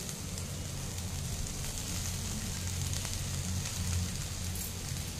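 Vegetables with broccoli sauté in a covered pan, giving a steady, moderately loud sizzle and crackle with a low rumbling undertone that holds evenly throughout.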